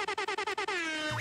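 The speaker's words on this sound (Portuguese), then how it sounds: "Então solta a buzina pra gente, Naka." A loud truck-style air horn blown in about seven quick rhythmic blasts, then one longer sustained note that drops in pitch at the end, close and alone.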